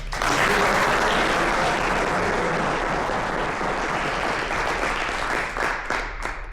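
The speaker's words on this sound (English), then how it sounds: "please, a round of applause for Team Chip X from U of A" A room of people at the AI HDL awards ceremony applauds Team Chip X from U of A, third place in the upper division; sustained, even clapping stays loud, then thins and tapers over the final second.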